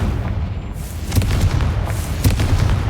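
A fire-blasting Confringo spell in the Hogwarts Legacy game, heard as a loud, rumbling boom that swells and lingers over a dense low roar, with a few sharper crackling bursts near the end.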